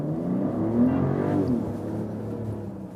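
A 2024 Mercedes GLE 53 AMG coupe accelerating, engine note rising in pitch then easing off, heard from inside the cabin, moderately loud with no talking.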